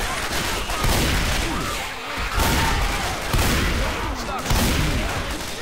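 Teammates' gunfire in Left 4 Dead, a dense continuous barrage of shots and booming blasts that rolls on throughout, loud and close, with a muffled voice briefly under it.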